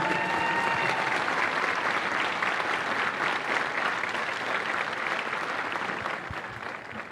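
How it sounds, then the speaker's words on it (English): Crowd applause for drill instructors at a Marine Corps graduation ceremony, a broad, sustained wash of clapping from a large audience that holds steady and eases off slightly near the end. "please join me in a round of applause"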